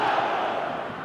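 Stadium crowd roaring and chanting in an eFootball match after a goal, a dense, loud wall of voices held throughout.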